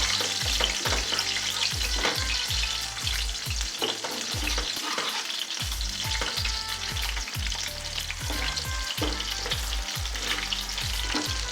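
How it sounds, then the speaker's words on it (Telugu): Fish frying in oil over a medium flame until browned, a dense continuous sizzle and crackle with frequent stirring and turning clatters throughout. "చూడండి ఒక పక్క వేగింది, ఇట్లా బ్రౌన్ కలర్ వచ్చే వరకు ఫ్రై చేసుకోవాలి."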